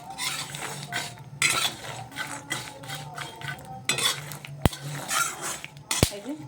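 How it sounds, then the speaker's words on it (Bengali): Roasted almonds being tossed and stirred in a metal wok, with repeated clinking and scraping of the pan and a couple of sharp metallic knocks, close and fairly steady. "আমি একটু কড়াইটাকে একটু নাড়িয়ে বাদামগুলো উপরের দিকে তুলেছি"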